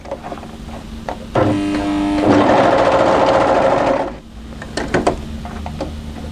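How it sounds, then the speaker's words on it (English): An electric sewing machine stitches a seam on a tee dress, a rapid loud mechanical whirring burst of about three seconds, starting and stopping abruptly close up, with quiet handling clicks before and after. "We're going to sew here and then pivot and then go down like that."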